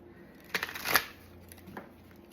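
A short, quiet riffle of tarot cards being shuffled, with a couple of soft papery flutters and no talking.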